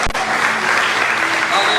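Congregation at a church service breaking into loud, dense applause, continuous and close, with an indistinct voice underneath.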